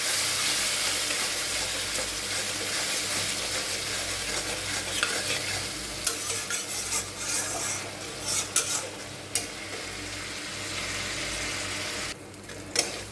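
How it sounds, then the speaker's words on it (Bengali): Spice paste with turmeric, salt and tomato paste being stir-fried in a pan, a constant close sizzle broken by repeated scraping and clinking of a spatula, louder knocks near the end, no talking. "হলুদ আর এখানে আছে টমেটোর পেস্ট দিয়ে ভালো করে মশলাটাকে আমি এখন কষিয়ে করি"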